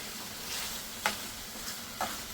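Okra and Roma tomatoes frying in a pan with a soft steady sizzle, broken by a few short scraping stirs of a spoon against the pan.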